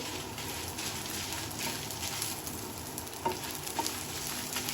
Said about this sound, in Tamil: பூண்டும் மிளகாவும் நல்லா வறுத்துக்கலாம் அடுப்பை வந்து சிம்மில் வச்சுருங்க